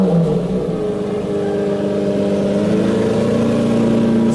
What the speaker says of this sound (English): There's nothing better than that V12. Just the way it purrs, you can just hear the engineering.